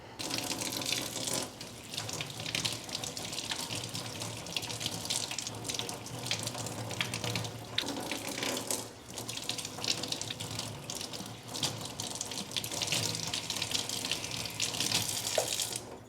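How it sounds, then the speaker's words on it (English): Tap water runs steadily into a sink while houseplants such as Alocasias are rinsed off, a continuous broadband splashing with small shifts in the flow, close by and without any talk. "let's go ahead and go to our sink here and rinse these off"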